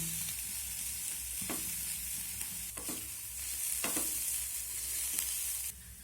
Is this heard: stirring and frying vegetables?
yes